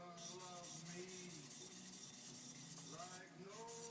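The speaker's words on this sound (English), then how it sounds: "a piece of nagara, which I'm going to use to polish the blade" A single bevel laminated traditional knife blade is polished against a nagara stone, giving a continuous close gritty rubbing and scraping with slight pitch-shifting squeaks throughout.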